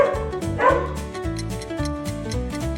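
A dog barks in a quick series of tonal woofs and yips, close and clear with no talk over it, presented as a farm animal sound.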